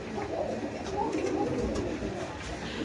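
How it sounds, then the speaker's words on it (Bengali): A male pigeon coos close by in a bird market, a soft, low, throaty murmur running steadily through the short stretch under faint background noise. "এই যে এটা নর কবুতর, খুব সুন্দর"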